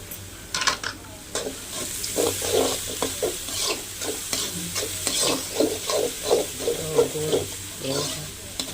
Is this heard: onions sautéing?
yes